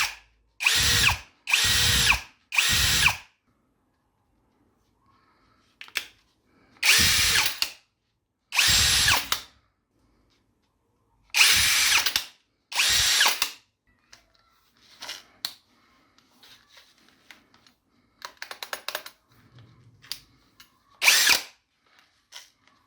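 An INGCO 66Nm cordless impact drill whirs in short bursts at two speeds, three quick pulses then paired longer runs, loud and near, with quieter clicks and handling noises between runs and no talking.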